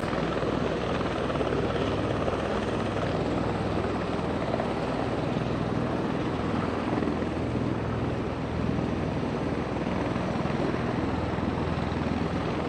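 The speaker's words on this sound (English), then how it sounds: "getting a little louder to hear now with about 5 helicopter blades churning up" About five helicopters' rotor blades churning steadily on the ground before takeoff in Lewiston, a dense, loud, unbroken engine roar with no voices.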